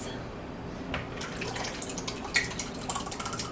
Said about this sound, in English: I'm going to add some pineapple juice to add a little bit of sweetness